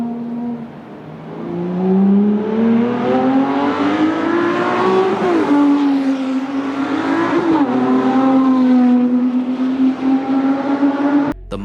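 A 7.3-liter V12 engine in a limited-edition supercar revs loudly and alone, its steady tone climbing in pitch, dipping, then climbing again, close and sustained for about eleven seconds.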